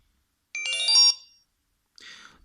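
A Nokia C6-00 mobile phone plays a short preinstalled ringtone: a bright, sustained electronic melody of about half a second, then a fainter second burst after a gap. The sound is clear and close, with no talking.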